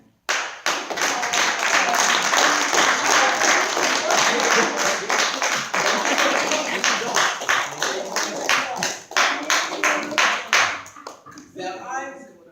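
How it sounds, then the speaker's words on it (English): A church audience claps for the women present, loud and rhythmic with a steady beat that lasts more than ten seconds before it fades, and a voice comes in at the close. "I want y'all to give a clap to every woman that's in here."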